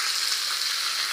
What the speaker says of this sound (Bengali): দিয়ে পেঁয়াজটা হালকা করে ভেজে নেব